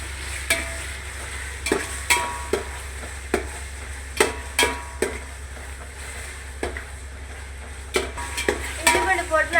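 Ginger and garlic sautéing in a pan for vegetable biryani, a low steady sizzle punctuated by sharp spatula knocks and scrapes roughly every half second to second, close by, with no one talking.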